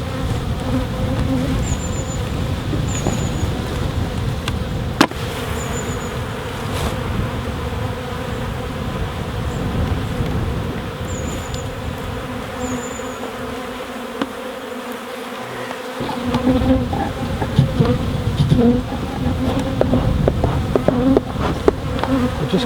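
Honey bees buzz densely and steadily around a hive as it is moved, a loud close drone with occasional knocks and handling sounds.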